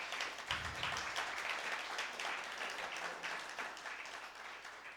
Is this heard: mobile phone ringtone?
no